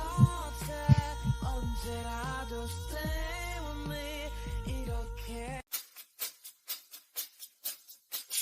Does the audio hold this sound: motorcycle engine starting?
no